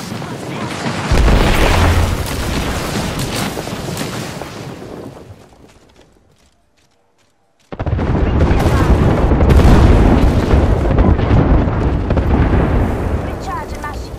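A thrown grenade detonates in a shooter video game with a loud booming blast and a long rumbling decay, followed by near silence, then another sustained roar of explosions and gunfire.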